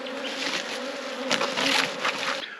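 Honey bees buzz steadily around the Hornsby hive while bringing in pollen, a dense, continuous drone with a few louder swells as individual bees pass close.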